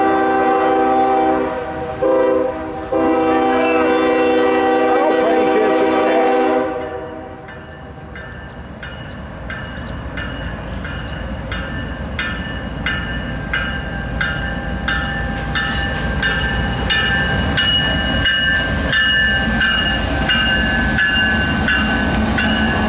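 A northbound Norfolk Southern autorack freight train passes in Hamilton, led by locomotives with a Union Pacific second unit: loud sustained horn blasts for several seconds, then the steady rumble and clatter of cars rolling by up close.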